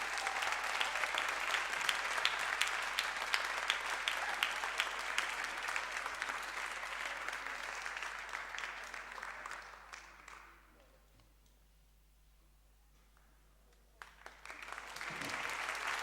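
An audience at a girls' varsity basketball awards ceremony applauds the tournament officials with dense, sustained clapping for about ten seconds. It then drops to near silence before a second burst of applause rises at the end.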